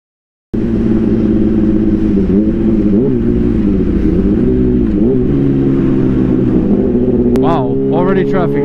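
Steady car engine and road rumble from inside a vehicle in traffic, loud and continuous with slight revving swells, and a voice briefly speaking near the end.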